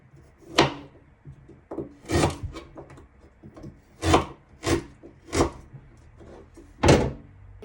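Ginger is sliced for fish paksiw: a knife strikes a cutting board in about eight separate, close chops with short gaps between them, and no one speaks.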